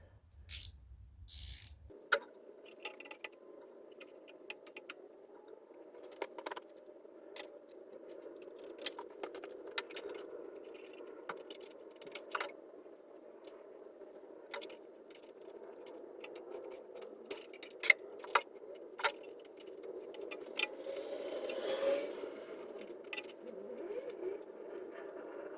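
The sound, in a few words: removing engine stud from classic Fiat 500 block with two locked nuts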